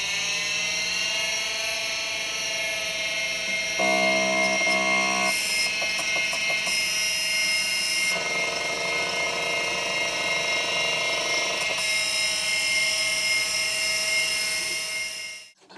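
Faulty SCSI hard drive seeking, a constant high whine overlaid with shifting tonal buzzes and rapid chattering bursts from the heads, steady and close before cutting off at the end.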